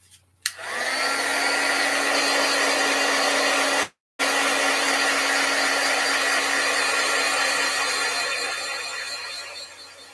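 Heat tool blowing hot air over freshly stencilled paint, a steady loud whooshing roar that starts abruptly, cuts out for a brief moment, then resumes and slowly tapers toward the end, with no talking.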